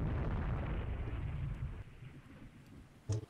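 Warship magazine explosion in the naval strategy game Rule the Waves 3, a faint rumbling blast that fades over a few seconds, ending with a brief sharper thud.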